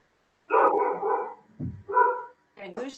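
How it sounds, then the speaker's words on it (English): Dogs bark in the background of an online board meeting, several short, moderately loud barks in a broken sequence, some overlapping with a voice speaking. "whose dog's making my dog bark?"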